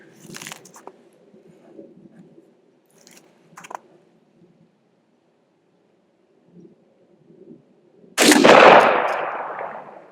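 Stoeger M3500 shotgun fires a single loud, sharp blast near the end, with a decaying tail, after several seconds of quiet light handling clicks and rustles.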